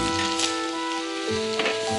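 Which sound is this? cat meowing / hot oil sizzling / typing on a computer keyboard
hot oil sizzling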